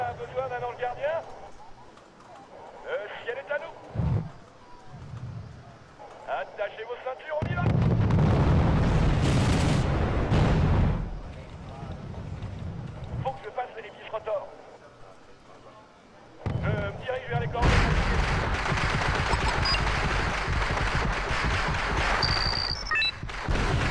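Gunfire and explosions from the Wargame: European Escalation strategy game, coming as loud sustained bursts of booming blasts and crackling shots in several long stretches, with voices talking between them.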